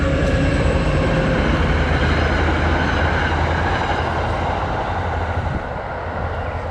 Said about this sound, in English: Just in time for a train to go by.